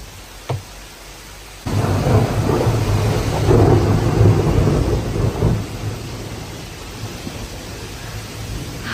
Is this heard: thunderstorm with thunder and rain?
yes